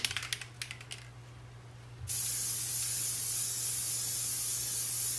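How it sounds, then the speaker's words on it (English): Krylon clear spray sealant misted around a glitter-coated cup, a steady loud aerosol hiss starting after a couple of quiet seconds with light handling clicks, then continuing unbroken to the end. "So I'm just doing a quick spray really quick all around the cup"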